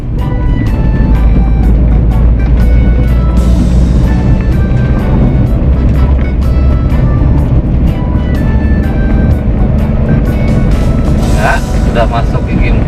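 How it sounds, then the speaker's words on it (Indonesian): A manual car driving in fourth gear, its engine droning loud and steady with low road rumble throughout and repeated short ticks over the top. "Sudah masuk gigi 4, dan itu RPM sudah ketiga, akan kita naikkan jadi gigi 5."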